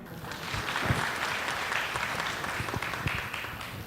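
Audience clapping at a college conclave open-mic stage, a steady, fairly distant wash of many hands with a few sharper nearby claps standing out.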